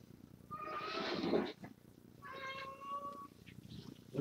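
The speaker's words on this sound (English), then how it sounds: "Now you hear the cat crying." A house cat meows twice in a row, drawn-out begging cries close by and fairly soft, with a short pause between them in an otherwise quiet indoor room.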